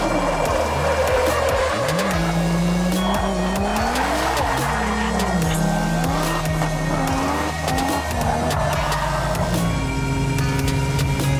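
Continuous loud tire squeal and engine drone from a Toyota Chaser drifting in a video game, the pitch sliding up and down as the car slides through corners.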